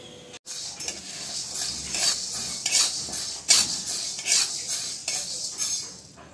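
Jowar (sorghum) grains roasting in a dry pan, stirred steadily, giving a continuous close-up scraping and rattling with brighter scuffs every second or so.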